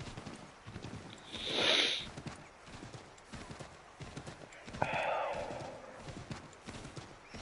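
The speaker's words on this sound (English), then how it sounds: "Get on the horse. Okay. And away we go." Horse galloping in the video game Assassin's Creed 3, a steady rhythmic clatter of hooves with two loud whinnies or snorts rising above it, heard without talk.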